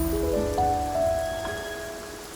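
Rain pattering steadily in the video game Infinity Nikki, with soft melodic musical tones ringing over the even wash of drops.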